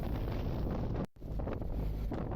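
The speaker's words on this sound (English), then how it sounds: "I'm having to fight this wind now." Strong wind buffets the microphone on a moving narrowboat out on the open fens, a loud, continuous rumbling roar with gusty fluctuations and a brief dropout midway, with no speech.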